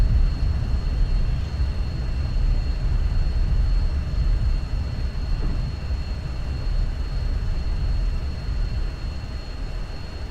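F-16 jet in a flight simulator game landing on a short runway and braking: a steady, loud low-frequency roar with broadband rumble holding constant throughout, no voices over it.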